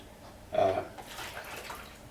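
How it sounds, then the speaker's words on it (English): Water is poured quickly from one drinking glass into another, a short close splash and gurgle lasting about a second and fading into a faint trickle. "if I take this and pour the water in, it pours very quickly"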